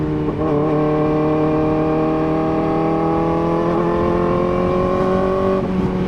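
A Kawasaki ZX-4RR motorcycle pulls steadily while being ridden, its engine and exhaust holding a loud, close, smooth high whine that rises slowly in pitch, with a slight dip near the end.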